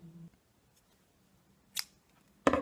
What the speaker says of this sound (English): pull up a loop and cut the yarn